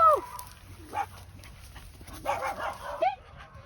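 A few short barks and yips from Indian street dogs ring out on a walk, fairly close, separated by gaps, with a faint high whine in the background.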